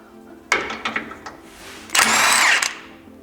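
An impact wrench works on old shock absorber bolts of a WD21 Nissan Pathfinder, a few short rattling bursts followed by a longer, louder hammering run, close up.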